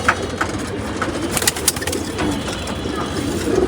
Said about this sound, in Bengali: সব সিনিয়র কবুতর আমার মাশাআল্লাহ